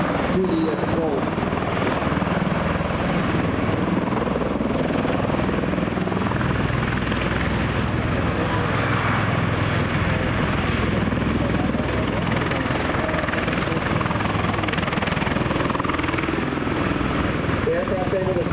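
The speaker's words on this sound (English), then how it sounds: "The aircraft's able to slide left to right there simply by changing the amount of power it's putting into each of those engines" An MV-22 Osprey tiltrotor hovers and slides sideways at an air show, filling the air with a loud, constant, throbbing rotor and engine roar that never lets up, with a voice talking underneath.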